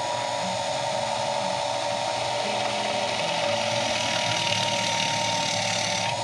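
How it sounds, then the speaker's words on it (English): A power drill bores into a wooden base held firmly in place, a steady whining motor tone with grinding, ratcheting bite into the wood running continuously and close up, with no talking. "Now I'm holding down very securely to make sure the wood doesn't move around while I'm drilling."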